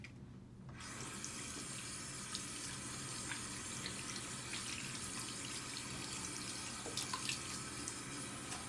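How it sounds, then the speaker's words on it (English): Tap water runs steadily into a sink as hands are rinsed beneath it, a constant close hiss of splashing that lasts throughout with no talk. "So we're going to rinse our hands now."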